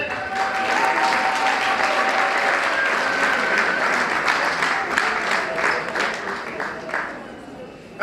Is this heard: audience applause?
yes